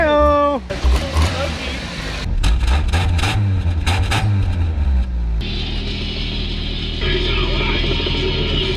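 A 1991 Toyota Corolla that had sat a long time cranks with a rapid whine, catches and settles into a steady idle, with people talking excitedly over the engine.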